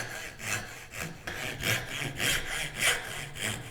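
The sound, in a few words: hand saw cutting wood for a wooden hinge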